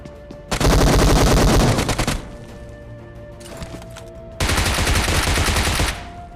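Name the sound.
gunfire in the video game PUBG Mobile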